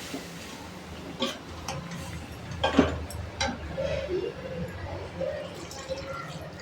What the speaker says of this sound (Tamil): நான் வந்து கொஞ்சமாக தேங்காய் பால் சேர்த்துட்டு இதை கலந்து கொடுக்குறேன்.